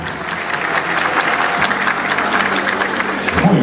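Sustained applause from the audience at a university graduation ceremony, a dense, steady clapping from a large crowd in a hall, loud and continuous, with a voice faintly entering near the end.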